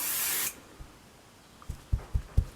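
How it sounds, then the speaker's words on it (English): Basting spray hisses from an aerosol can onto layered quilt fabric in a single half-second burst, followed by a few soft taps and thumps nearby. "I need to spray all these layers, so I'm going to spray a little bit here."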